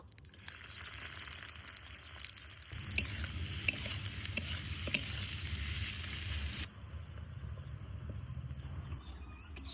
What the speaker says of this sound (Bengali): প্রথমে পেঁয়াজগুলা ভালো করে ভাজি নিব।